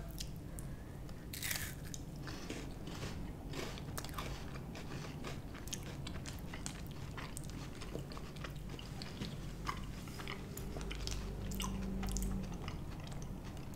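Someone chews and crunches pink Japanese sakura peach candy close to the mic, with soft repeated bites and wet chewing sounds going on throughout, faint and without talking.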